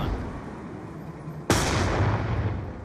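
A grenade goes off in a first-person shooter video game: a single sharp, loud blast halfway through, preceded by a low steady hum and followed by a decaying rumble.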